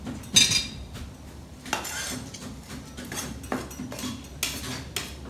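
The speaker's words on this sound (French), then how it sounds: "on va mélanger encore de nouveau ceci un tout petit peu" A spoon stirs Russian salad with finely chopped onion in a bowl, making light scraping and clinking of metal against the dish in irregular bursts, close and fairly quiet, with no talking.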